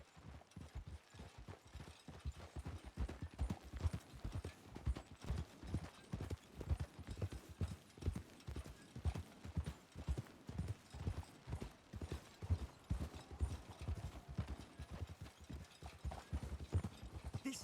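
Horses' hooves clip-clop steadily in Red Dead Redemption 2, a dense, even rhythm of close, moderately loud hoofbeats continuing throughout with no talking.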